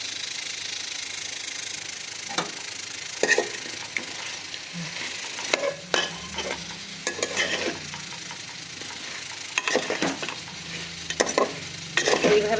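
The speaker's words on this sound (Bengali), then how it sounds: "এবার আরও কিছুক্ষণ বেশ আমরা এই খাসির মাংসটাকে কষাবো" Goat mutton with tomato being sautéed (kosha) in a pan: a continuous sizzle and frying hiss carries throughout, punctuated by repeated scraping knocks of a spatula stirring the meat, close and fairly loud, no voices.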